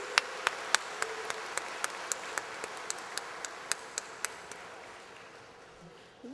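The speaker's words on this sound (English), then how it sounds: "Let's give these distinguished people a warm round of applause." Sparse, evenly spaced handclaps from a commencement audience, fairly faint and thinning out toward the end.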